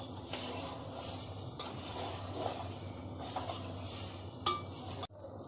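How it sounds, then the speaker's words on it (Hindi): Goat liver (kaleji) sautés steadily in a pan, a soft continuous sizzle with occasional clinks and scrapes of a spoon against the metal, ending in an abrupt stop. "और अब इसे भी मैं 2 से 3 मिनट अच्छे से भून लेती हूँ।"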